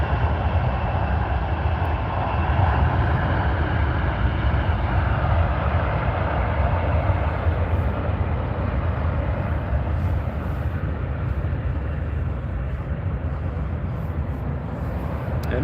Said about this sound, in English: Here goes the CRJ.